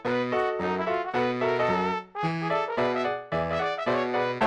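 PC version of the game Chip's Challenge playing bright synthesized tones, a rapid run of short electronic beeps and chimed notes in a jumpy rhythm, clear and alone without talk.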